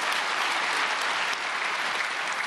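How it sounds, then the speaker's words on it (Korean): A hall audience claps in dense, sustained applause to welcome a speaker at a prayer meeting for peaceful reunification, loud and continuous with no voices. "박수로 환영하시겠습니다."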